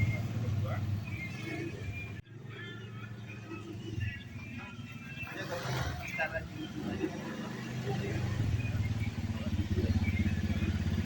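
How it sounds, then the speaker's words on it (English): A motorbike engine runs and builds gradually as it moves off, a steady low drone with a brief click partway through, while a person talks over it. "Pull the brake lever and then start the motorbike. Turn the gas slowly, then the motorbike will move."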